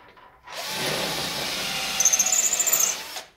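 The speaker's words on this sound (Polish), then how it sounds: "Zwykłym wiertłem do metalu szóstką" A power drill fitted with a 6 mm metal bit bores into Ytong aerated concrete, grinding loudly and steadily for about three seconds, with a rapid pulsing chatter near the end before it stops.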